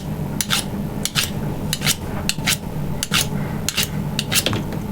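A burnisher is flicked along the edge of a card scraper to turn the burr, giving a rhythmic series of about eight quick, bright metallic scrapes over a steady low background, with no speech.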